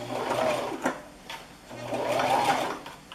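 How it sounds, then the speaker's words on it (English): A sewing machine stitches a leather pouch in two quiet bursts of rapid mechanical whirring, separated by a short pause. "sew a 1/4 inch away from the edge all the way around, except for the top"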